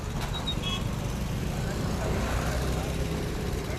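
Steady roadway noise from traffic, including large container trucks, rumbles continuously on a congested town road, with people talking over it.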